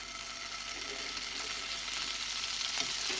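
Butter melting in a hot pan for making paratha, giving a steady, faint sizzle with light clicking and crackling that grows slightly louder toward the end, with no voices.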